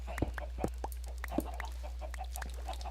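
Chickens in a Minecraft coop cluck in short, scattered bursts against a steady low hum, with faint irregular clucks repeating over a few seconds at low volume.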